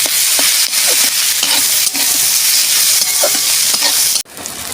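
Sliced ivy gourd sizzles loudly in a hot pan with chilli and a little sugar, a constant dense frying hiss broken by repeated scraping strokes of a spatula stirring the pieces, close by with no voices.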